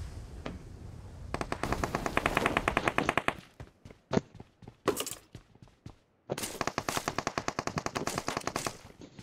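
Rapid bursts of automatic gunfire from the video game PUBG Mobile on the Erangel map, loud and close, in several volleys with brief gaps and single shots between them; no talking.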